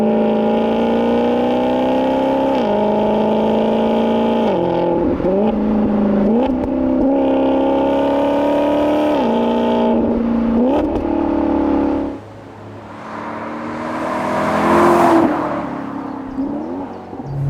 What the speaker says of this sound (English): So, drive, sport mode, downshift.